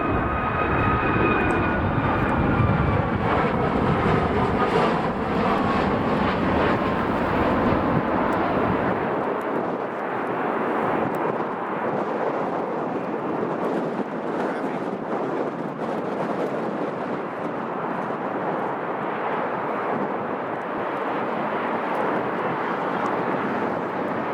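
Jet airliner landing at Chicago O'Hare in a crosswind, a loud continuous engine roar that sweeps past and fades into a rumbling rush, with heavy wind buffeting on the microphone.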